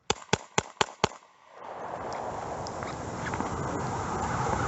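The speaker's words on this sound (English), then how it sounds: "Shots fired, station, shots fired!" Five sharp gunshots in quick succession during a police officer-involved shooting at a greenway, loud and close, each a brief broadband crack, followed by steady outdoor rumble and hiss.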